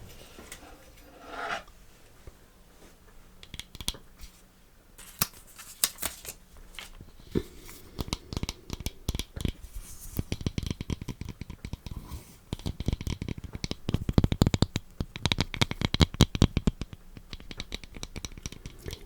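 Hygge conversation cards are handled and shuffled up close in a quiet room. There are soft papery rustles and scrapes, then denser bursts of riffling and flicking that grow louder toward the end.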